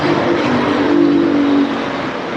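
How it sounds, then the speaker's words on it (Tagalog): A car passes along a road outside in a loud, steady broadband roar with a faint tonal hum, swelling briefly and then easing a little as it moves on. "Sobrang maingay ba pag dumadaan yung sasakyan?"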